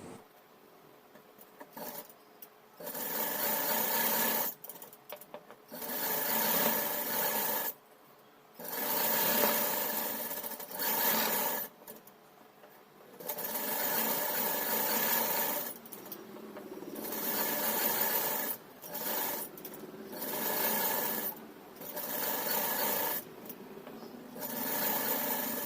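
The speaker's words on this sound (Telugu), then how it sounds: "కుట్టేటప్పుడు క్లాత్ సమానంగా జాగ్రత్తగా సరి చేసుకుంటూ కుట్టండి." A sewing machine stitching a lining into a blouse, running in repeated bursts of rapid whirring stitches, some long and some short, with brief pauses between them, close and clear.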